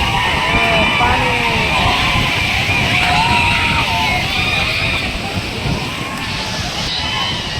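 People wade through water on a rainy outing, and the loud sloshing blends with constant rushing water. Voices shout and talk over the din throughout.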